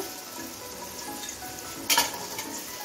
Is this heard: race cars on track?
no